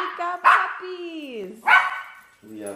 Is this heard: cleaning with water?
no